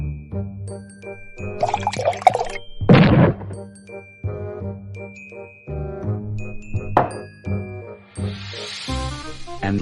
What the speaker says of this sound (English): Next, pour this auro silver potion to the chemical glass.